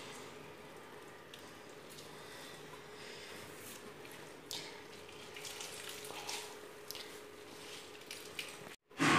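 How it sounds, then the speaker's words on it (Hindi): Water dripping and trickling as salted grated radish (mooli) is squeezed by hand over a bowl in a home kitchen for paratha, a soft, steady wet patter with a few louder squishes and a brief pause near the end. "अब मूली में से पानी निकालते हैं। ये पानी निकाल लेते हैं मूलियों में से।"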